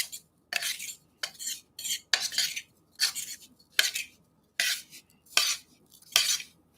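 Flour and spices being stirred together in a bowl for a dry breading mix, with a steady series of about ten scraping strokes of a utensil against the bowl, each a short gritty swish, close and clear with no talk.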